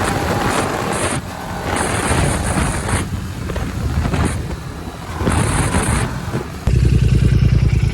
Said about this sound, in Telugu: So finally we are riding the BMW 310.